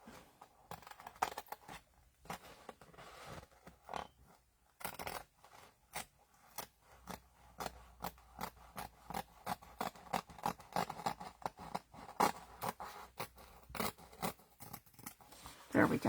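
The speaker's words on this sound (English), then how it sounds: "So I'm just going to give this a little snip here." Scissors snip through paper while matting a file folder flip folio: a run of short, crisp cutting clicks up close, with a person talking between the cuts.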